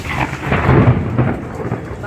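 Thunder rolling through a rainstorm after a large lightning flash, a broad low rumble that swells and lingers over steady rain for the whole stretch, fairly loud and close.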